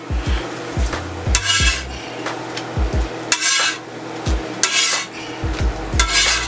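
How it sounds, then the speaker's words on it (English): Tortillas cooking on a pan beside chorizo and eggs, with sharp metallic taps and scrapes of a utensil against the pan over a faint sizzle, close and without talk. "About time to flip them over."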